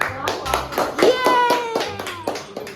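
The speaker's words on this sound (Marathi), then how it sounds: "टाळ्या तर वाजव रे" Hand clapping beats out a steady rhythm of about a dozen sharp, close claps over festive Diwali music and voices talking.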